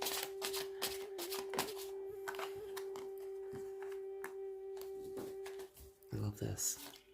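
Tarot cards being shuffled by hand, a series of quick crisp riffles and soft flicks at close range, with a steady faint hum beneath and a few louder handling sounds near the end.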